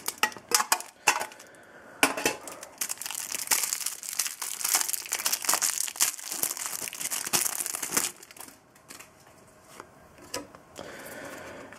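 Crinkling foil wrappers of Match Attax trading card packs being torn open, with sharp rustles and crackles in irregular bursts, close and moderately loud, easing off toward the end.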